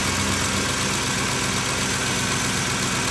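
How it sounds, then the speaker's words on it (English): Old truck engine idling just after startup: a continuous, loud, even rumble with a steady mechanical drone and no breaks, close by. "Notice how much quieter the valve train is on the start."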